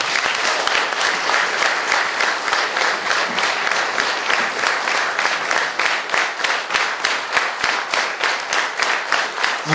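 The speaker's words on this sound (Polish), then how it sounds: "również brawa całego zespołu" Audience applause at a theatre premiere, a dense, steady wash of many hands clapping, loud and continuous for the whole stretch with a slight rhythmic pulse and no talk over it.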